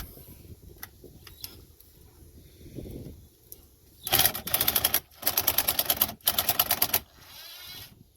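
A cordless drill with a weakening battery drives a self-tapping screw into a mudflap, giving three loud, close bursts of rapid rattling clicks after some quieter handling noises.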